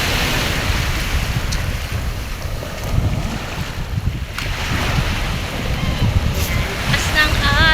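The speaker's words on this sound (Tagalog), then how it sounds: "Maalon." Rough sea waves roll onto a beach in a steady, loud wash, with gusty wind buffeting the microphone throughout.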